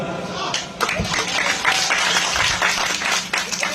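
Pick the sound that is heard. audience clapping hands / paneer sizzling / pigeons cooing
audience clapping hands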